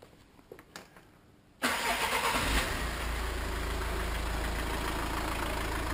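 A car engine cranks and catches after a quiet start, then settles into a steady, loud idle that continues to the end.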